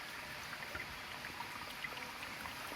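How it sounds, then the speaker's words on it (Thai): Underground spring water seeps out at the head of a forest stream below a mountain, a gentle, even trickle and hiss of running water heard close and alone for the whole stretch. "น้ำที่ไหลออกมานะครับ มาจากใต้ดินนะครับดูครับ"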